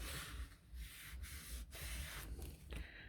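Paper coated with glue being rubbed down by hand to make it stick, a steady close scratchy rubbing in repeated strokes with brief pauses, no talking.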